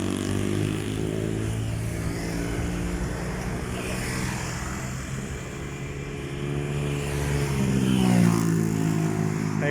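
Cars and motorcycles pass on a road in Cabuyao, Laguna, with a steady engine drone and tire noise close by. Revving swells rise and fade as vehicles go past, with no talking.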